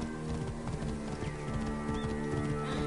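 Rhythmic clip-clop of hooves from a galloping horse in the video game Assassin's Creed Origins, loud and close over a steady musical background.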